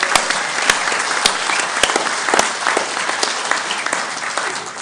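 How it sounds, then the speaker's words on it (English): Steady applause fills a political party conference hall as delegates clap for the event stewards, a dense continuous wash of hands with a few sharper claps standing out, no voices over it. "let's give them a round of applause already for the day they have ahead."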